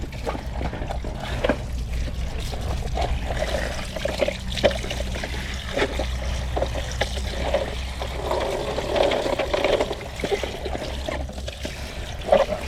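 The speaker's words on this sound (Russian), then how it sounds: "я обязательно промываю его обычной водопроводной проточной водой" Running tap water trickles and splashes steadily for several seconds over a rinsed Intex ZX300 pool vacuum, close by, with occasional small knocks and clatter.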